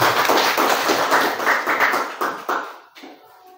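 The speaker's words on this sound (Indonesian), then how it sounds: "Tepuk tangan dulu." A school audience at an Indonesian junior high gathering bursts into group hand clapping, dense and close, then thins into a few scattered claps and fades over a few seconds.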